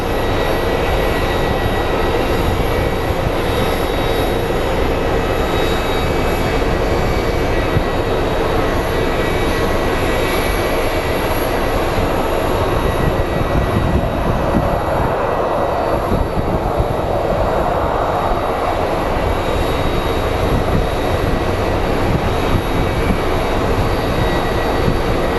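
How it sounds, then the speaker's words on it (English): Near Phoenix Sky Harbor airport, a continuous broad rumble with steady tonal hum runs unbroken throughout, consistent with a train passing nearby, heard alone without talk. "I hear a train."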